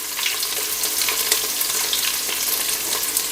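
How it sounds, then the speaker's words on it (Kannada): Onion and curry leaves fry in oil with a loud, steady, crackling sizzle heard up close, unbroken and without any voices. "ಈರುಳ್ಳಿ ಮತ್ತು ಕರಿಬೇವನ್ನು ಈಗ ಹಾಕ್ಕೊತಾ ಇದ್ದೀನಿ"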